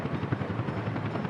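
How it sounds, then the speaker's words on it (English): Rapid rotor thumps from a Workers & Resources helicopter pulse steadily and fairly loud, a brief continuous chopping with no speech. "Well, here comes the helicopter."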